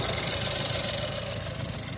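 A car engine idling steadily after a coolant hose repair, a low even hum with a faint mechanical tick, constant and close with no voices.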